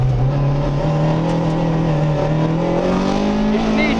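A rally car drives hard on a stage that includes asphalt, its engine droning loud and steady from inside the cockpit with a slowly rising pitch.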